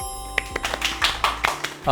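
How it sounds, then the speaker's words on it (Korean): A few people in a small studio clap to welcome a guest, sparse separate claps close by, with talk running underneath. "박수!"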